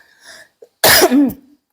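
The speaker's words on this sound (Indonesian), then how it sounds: "lagi batuk" A single harsh cough close to the microphone, preceded by a short breath and followed by quiet.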